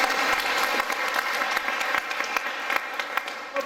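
An audience at a live magic show in Limerick bursts into sustained, loud applause, with a few sharper individual claps standing out near the end.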